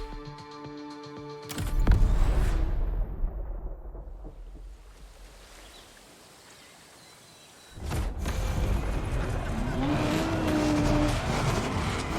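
A Hoonigan Donk Chevrolet Caprice in The Crew Motorfest gives a loud engine roar that swells, fades to a low rumble, then surges back strongly and steadily, alongside music and game sounds.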